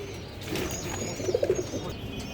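Pigeons in a loft give a short run of soft, low cooing notes near the middle, over a quiet room hum.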